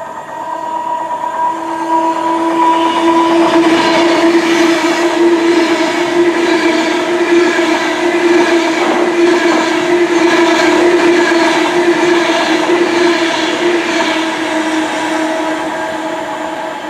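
A diverted Avanti West Coast train passing through Witton station in the West Midlands, a loud sustained rumble and roar with a steady tonal drone building and fading over about seventeen seconds, alone without talk.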